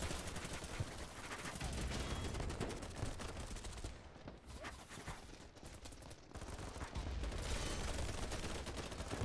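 A full magazine emptied in the video game BattleBit: rapid, sustained automatic gunfire crackling almost continuously, with a brief lull midway before the shooting resumes, no speech on top.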